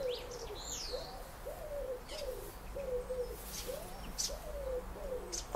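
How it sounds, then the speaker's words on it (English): A pigeon coos outdoors in a slow, repeated series of soft, throaty calls at a moderate distance, with faint chirps from other birds and light background ambience around it. "Is it an owl or a pigeon? It's probably a pigeon."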